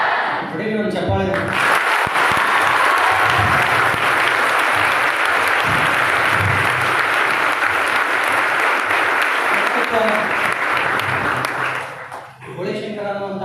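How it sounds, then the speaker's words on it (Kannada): Sustained, loud audience applause fills the hall after a Kannada stage play, the drama Boleshankara, with talk before and after the clapping. "ಹೊಡಿಲಿ ಒಂದು ಚಪ್ಪಾಳೆ."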